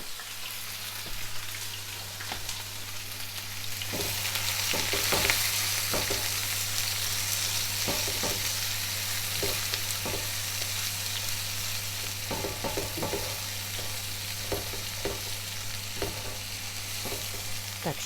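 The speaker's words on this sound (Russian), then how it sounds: "Так, сейчас я обжарю морковку с луком." Carrots and onions fry in a pan with a steady, close sizzle and crackle, broken by occasional stirring clicks, and no one speaks.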